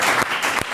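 A brief burst of dense audience applause greeting a celebrity guest on a podcast set, loud and continuous with a couple of sharper surges.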